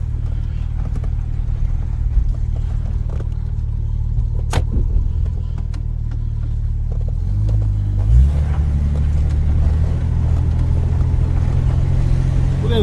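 A Pontiac LeMans drives around the block, its engine giving a steady loud low rumble from inside the car that shifts and swells partway through, with no talk.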